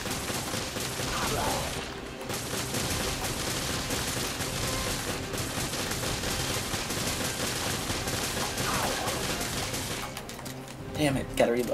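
Sustained machine gun fire rattles almost nonstop in Resident Evil Revelations Raid Mode, dense and loud, with a brief break and a few heavier bursts toward the end while someone talks over it.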